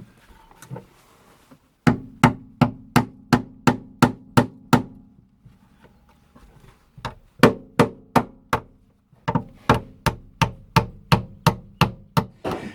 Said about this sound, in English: hammering the crap out of his car